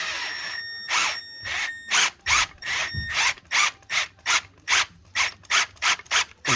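A hand tap cuts threads for a coolant bypass in a Honda K20Z3 cylinder head, giving rhythmic ratcheting clicks and squeaky metal grinding in steady repeated strokes, close up with no talking.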